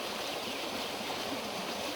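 A roadside stream near a rest area flows steadily, its broad rushing water noise constant and close, with no voices.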